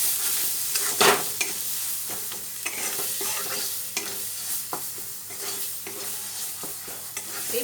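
A spoon scrapes and stirs bottle gourd leaf paste around a hot pan, with steady sizzling frying under repeated close scraping strokes and no voices.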